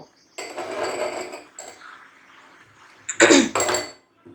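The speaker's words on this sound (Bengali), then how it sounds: "ফেটিয়ে নেব" Homemade butter mixed with half a spoon of turmeric is whisked in a bowl, giving bursts of close wet churning and scraping separated by short pauses, with a louder clattering stretch toward the end.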